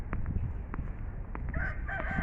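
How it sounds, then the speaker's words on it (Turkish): Chickens nearby in Esenler 15 Temmuz Park, Istanbul, with a rooster crowing over scattered clucks and a low background rumble. "Tavuklar."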